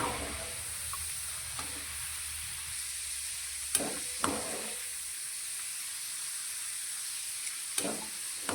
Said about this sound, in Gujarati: ને તે ક્રિસ્પી થાય તે રીતે તેને આપણે તળીશું હાઈ ગેસની ફ્લેમ પર તળીશું